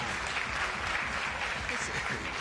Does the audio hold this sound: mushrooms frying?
no